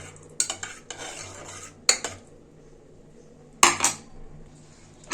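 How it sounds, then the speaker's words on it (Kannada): A metal spoon stirs turmeric and salt into a broccoli mixture in a pot, making a few sharp clinks and scrapes against the rim with quiet gaps in between. "ಇನ್ನೊಂದ್ಸತಿ ಮಿಕ್ಸ್ ಮಾಡೋಣ್ರಿ"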